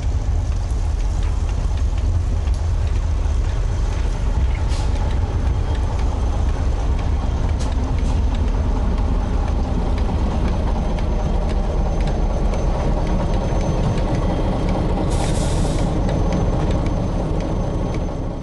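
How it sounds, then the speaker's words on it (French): A locomotive pulls into a small snowy station on the Alpine railway line between Marseille and Grenoble, a steady, dense rumble with rushing noise that holds at one level throughout, with no voices. "lorsqu'arrive enfin le loco"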